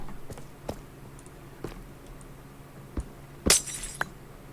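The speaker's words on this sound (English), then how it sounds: "What we're going to do from here is break out some of this glass" Glass blocks break in Minecraft while a beach house is being built, with several crisp clicks and a louder shattering crash near the end, over a quiet background with no talking.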